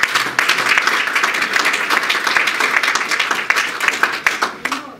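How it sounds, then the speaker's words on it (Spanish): A church congregation applauds loudly and steadily, dense clapping filling the whole stretch without a break, close and bright. "¿Cuánto le dan un aplauso al Señor?"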